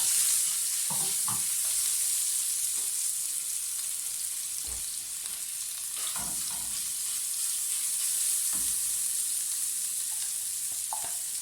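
Steady sizzling of ginger-garlic paste frying in hot oil, a continuous bright hiss with occasional soft clinks and stirring sounds, no talking.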